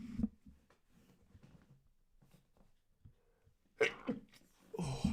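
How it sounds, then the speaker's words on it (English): A single sharp sneeze bursts out near the end after quiet breathing and shuffling, followed by another loud burst. "Oh, bless me. Sneezed again."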